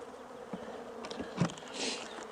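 Honey bees buzz around an open hive being split, heard as a faint, fluttering hum with individual insects passing close by, one loud brief pass near the middle and another swelling buzz toward the end.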